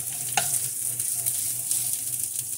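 Olive oil sizzles in a pan while carbonara cooks, a steady bright frying hiss with a soft scrape of stirring near the start, close and continuous with no voices.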